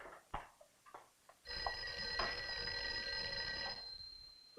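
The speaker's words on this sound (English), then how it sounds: "I think your phone is ringing." An old telephone bell rings steadily in an office in a 1959 film, a sustained, fairly close metallic ring lasting a couple of seconds after a few soft knocks and rustles.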